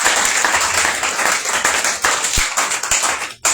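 Church congregation clapping and cheering in acclamation of Jesus Christ, a dense, steady wash of applause with rhythmic claps, loud and close.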